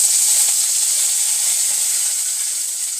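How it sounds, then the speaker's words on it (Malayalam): Curry leaves dropped into hot oil with popped mustard seeds give a steady, loud, hissing sizzle that holds without a break for the whole stretch. No voices are heard. "വേപ്പില ഇട്ട് കൊടുക്കാം കേട്ടോ."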